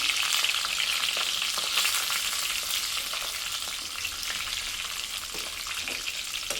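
Small brinjals with salt being stirred in a pan, a continuous close sizzle with faint scraping strokes throughout and no voices.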